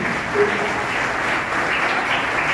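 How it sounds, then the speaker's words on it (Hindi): Steady audience applause fills a hall at a Hindi-language felicitation ceremony honouring distinguished guests, a dense, continuous clapping that holds for the whole stretch with no speech over it. "तालियां बहुत बनी।"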